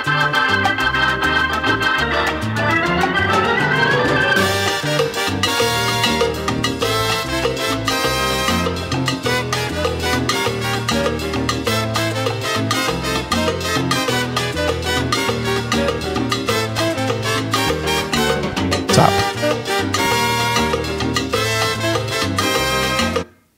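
Recorded Latin jazz-influenced band arrangement, one of the arranger's early charts, played as dense, continuous ensemble music with busy percussion and sustained brass and keyboard lines, loud and full throughout before stopping abruptly at the end.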